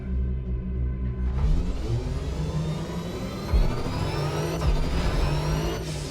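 A hydrogen-powered car in the video game Motorfest revs its engine, a smooth rising whir and rumble that climbs steadily in pitch over several seconds with a couple of brief surges, close and alone.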